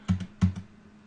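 Typing on a computer keyboard, two quick pairs of soft key clicks in close succession, nearby and alone in a quiet room.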